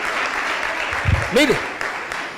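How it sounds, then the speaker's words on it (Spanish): Applause rises from a church congregation at a Sunday Restoration service in Mar del Plata, a broad steady wash of clapping that runs throughout while a preacher's voice cuts in briefly over it. "dale un aplauso a Cristo, hermano, gloria a Dios"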